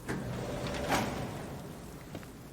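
A door sliding open in a Batman video game after a voice-synthesizer command, a short mechanical whoosh and rumble peaking about a second in, then fading into low room tone.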